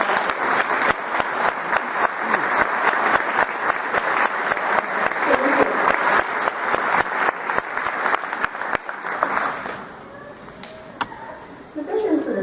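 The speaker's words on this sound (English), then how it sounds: "let's give them a round of applause" An audience at a college of nursing recognition ceremony applauds the accelerated program teachers, a loud, dense, sustained round of clapping that thins out and fades near the end.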